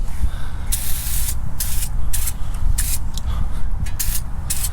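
PB Blaster Surface Shield sprayed from an aerosol can into a car's wheel well, a series of loud, close hissing bursts of varying length, one after another, over a steady low background rumble.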